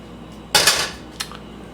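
A cast iron pan being handled in a kitchen, a loud metallic clank and scrape followed by a lighter knock a moment later, close and with no talking.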